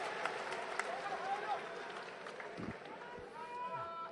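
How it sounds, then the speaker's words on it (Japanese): Crowd applause fills the Nippon Budokan during a judo bout at the 2022 Japanese national championship in Tokyo, a steady roar of clapping with a commentator's voice running over it. "これは大拍手です。 日本武道館が揺れています。"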